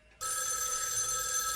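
A telephone rings loudly in the horror adventure game Spirit Hunter: NG, a sustained, bright electronic ring that starts abruptly after a short near-silence and continues steadily to the end with no talk.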